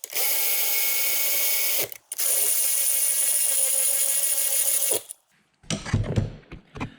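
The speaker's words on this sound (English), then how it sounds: "I like to run them down with some sort of electric ratchet just until they're snug" Electric ratchet spinning cylinder head bolts down snug on a 900XP engine rebuild, two sustained high whirring runs a few seconds each with a short gap, then brief clanks of tools afterward.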